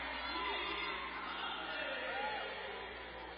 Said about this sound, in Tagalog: Crowd, not the biggest, but enjoying themselves immensely.